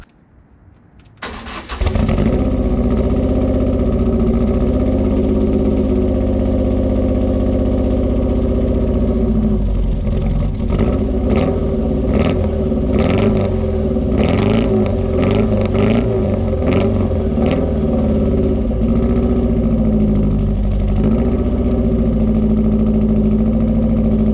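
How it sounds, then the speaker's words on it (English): A Ford Fiesta MK2 XR2 with a rough-running engine cranks and fires after a brief quiet start, then settles into a loud, steady idle with a few uneven blips and surges, close and alone with no talk. "Obviously the car's still running at the minute"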